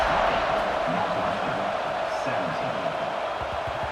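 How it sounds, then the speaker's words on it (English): Stadium crowd at kickoff in a college football video game, Northwestern at Penn State: a steady, dense roar of cheering fills the whole stretch at an even level, with no speech over it. "They're set to kick it off, and this crowd now ready to get behind them."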